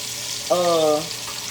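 Pork chops, a couple at a time, browning in a hot skillet over medium heat, giving a steady close sizzle with a brief tonal hum rising over it midway.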